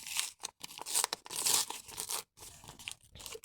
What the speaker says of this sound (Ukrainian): Спочатку ми маємо відліпити цю наклейку.